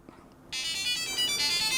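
A Samsung Galaxy SmartTag set to low volume rings with a repeating high-pitched melodic beep pattern, fairly loud and close, starting abruptly after a brief quiet moment.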